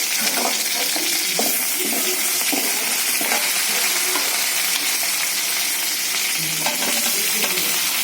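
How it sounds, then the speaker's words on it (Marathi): Curry leaves and green chillies sizzling in a pan for Marathi sabudana khichdi, a steady close crackling sizzle with scraping stir sounds throughout. "मिरची शिजली कढीपत्ता टाकू"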